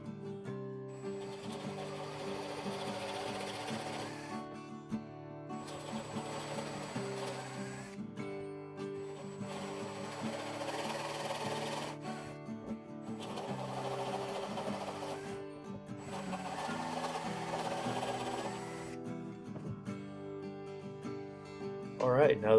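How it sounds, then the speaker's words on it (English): Holes on the front of a Samick guitar headstock are enlarged with a reaming tool, giving five separate bursts of motorized whirring, each a few seconds long, over a low steady hum at moderate volume. "now we're going to enlarge the holes on the front."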